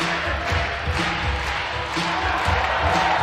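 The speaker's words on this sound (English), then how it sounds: "crowd getting behind Jan, as you would expect" Spectators at a bouldering competition cheer on a climber, a steady, moderately loud crowd roar with scattered shouts and claps that swell now and then.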